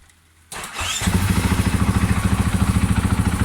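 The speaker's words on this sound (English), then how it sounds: "Start the bike." A motorcycle engine cranks and fires outdoors at night, then settles straight into a loud, steady idle with an even, rapid pulsing beat, close by and with no talk.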